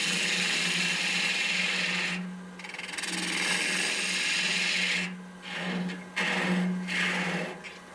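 A quarter bowl gouge cuts an end-grain natural edge vase on a wood lathe, making a loud, continuous scraping rasp over a steady motor hum. The cutting breaks off briefly a few times and then resumes.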